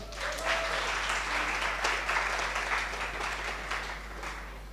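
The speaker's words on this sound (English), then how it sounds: "Clap yourselves." Students applaud at a university faculty orientation, a steady wash of clapping from a large crowd filling the hall, sustained and fairly loud for the whole stretch with no pauses.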